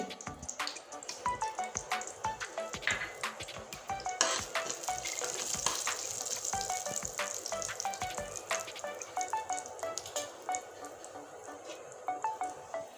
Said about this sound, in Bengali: দুটো শুকনো লঙ্কা দিয়ে দিচ্ছি লঙ্কাটা ভেজে নিব লাল করে আর ফোড়নে দিয়ে দেব কালো জিরে